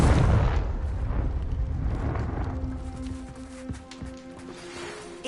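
Confringo spell blast in a wizarding video game: a loud, rumbling explosion opens and rolls into a long dying roar, with faint tonal hum and scattered crackles trailing off.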